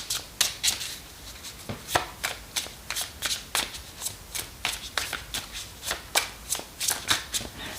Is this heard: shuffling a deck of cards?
yes